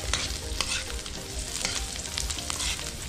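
Red onion and ginger stir-fry in a pan for chicken sinampalukan, a continuous close sizzle broken by repeated scraping strokes of a spatula at an uneven rhythm, with no voices.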